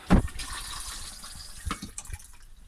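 Flush of an RV cabin toilet: a sharp rush of water at the start, then a steady low trickle as the bowl fills, with a few gurgles and splashes near the end, close and fairly quiet.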